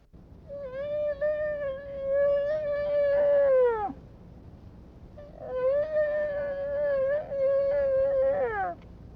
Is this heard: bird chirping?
no